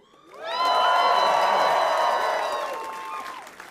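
Crowd at the Raleigh Improv comedy club bursts into cheering, whooping and clapping for about three seconds, loud and close, before the roar tapers off.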